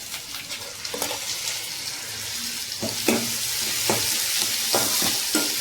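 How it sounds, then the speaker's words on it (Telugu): Ginger-garlic paste and mint sizzle in a frying pan, a steady hiss rising slightly as a utensil knocks and scrapes the pan in irregular strokes. "కొంచెం అల్లం వెల్లిపాయ పేస్ట్ తీసుకోవాలి. బాగా కలుపుకోవాలండి."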